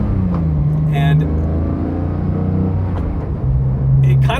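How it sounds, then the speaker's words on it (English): A manual Porsche 991.2 GT3 engine idles in traffic, a close, steady low rumble with faint mechanical ticking running through it and no voices. "911s have a special characteristic where when you're just sitting in traffic, you can feel and hear everything ticking away behind you."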